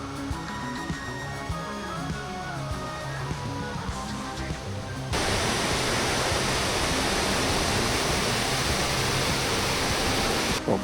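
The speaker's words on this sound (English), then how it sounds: "Partway up, we stood beside a waterfall and got a place to refill some water" Beside a mountain trail near Futaleufú, a waterfall roars as loud, steady broadband rushing water. The sound starts abruptly about halfway through and holds even and close after quieter, tonal background sound.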